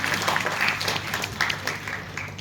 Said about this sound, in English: So give a big round of applause to Dr. Damale sir